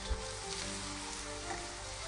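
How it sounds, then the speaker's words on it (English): Steady sizzling and crackling of onions frying in hot oil, a constant hiss close by with no one speaking. "heat the oil in a frying pan. Add the onions and cook them until they're translucent."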